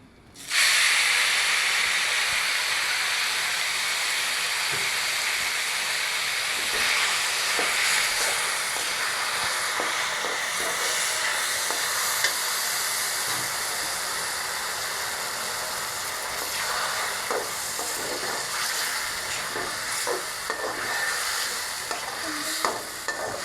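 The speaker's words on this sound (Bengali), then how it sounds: "ক্যারামেলটা হয়ে গেছে এখন আমি পেঁপেগুলা দিয়ে দিব" Chopped raw papaya hits hot caramel in a pan, giving a loud, steady sizzle and steamy hiss with soft scraping strokes of stirring throughout, no voices.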